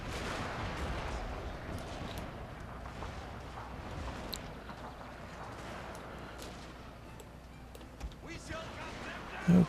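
Artillery bombardment in Total War: Shogun 2 – Fall of the Samurai: a steady rumble of distant booms and crackling shots rolls beneath someone talking throughout.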